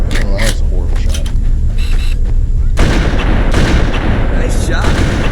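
Loud, dense gunfire and blasts from the video game Halo: Combat Evolved, with sharp repeated shots and heavy booms piling into a continuous barrage, voices calling out over the combat.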